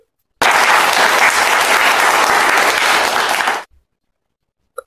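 Children at a toddler and preschool church service clap together in a dense, steady burst of applause lasting about three seconds before stopping abruptly into silence.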